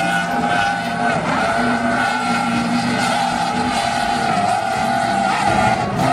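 A toy speedboat gives a continuous buzzing, whining motor sound, steady and fairly loud, with a faint roar beneath it and no clear pauses.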